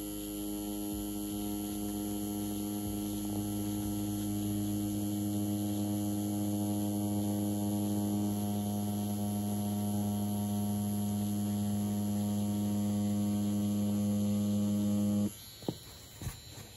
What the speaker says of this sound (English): The machine, the BRONC Wireless Hummingbird machine, is performing very, very low vibrations as well.